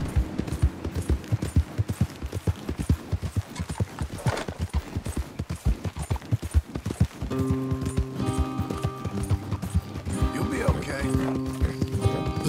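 Rhythmic clip-clop of horse hooves trotting steadily in Red Dead Redemption 2, with a whinny and talk mixed in, then music joining toward the end.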